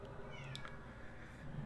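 A house cat shrieks from another room: a short pair of faint, distant meowing cries rises briefly above a low, steady background.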